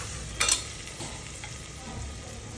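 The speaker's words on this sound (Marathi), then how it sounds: "छान याला परतून घेऊयात." Tomatoes and coriander sauté in a pan for dal, a soft sizzle with a brief louder stir-scrape near the start, then quieter stirring under steady frying hiss.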